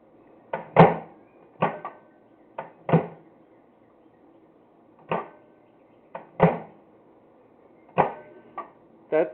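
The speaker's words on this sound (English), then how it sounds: "That's the microwave coming on with the door open." A GE microwave trying to start with its door open gives a series of sharp, close mechanical clunks at uneven intervals, each fading quickly, with quiet between them and no voices.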